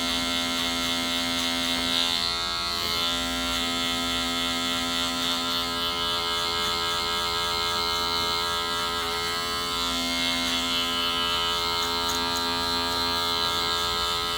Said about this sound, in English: I can hear the clipper cutting